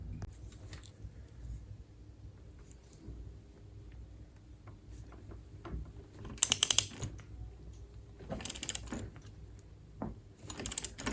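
A Park Tool CWP-7 crank puller works a stubborn bicycle crank off, with low grinding and ratcheting mechanical noise under a steady rumble, then a few sharper clanks and creaks near the end, close by.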